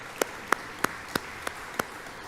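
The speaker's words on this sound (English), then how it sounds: "I'm sure everybody join me in a round of applause here" Sparse, scattered claps from a small audience at a public works training conference after a panel discussion, about six distinct hand claps spaced evenly and sounding thin and somewhat distant.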